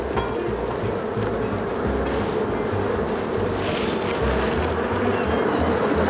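Honey bees buzz steadily at an open hive on a Saskatchewan farm, a dense close drone that holds without pause throughout.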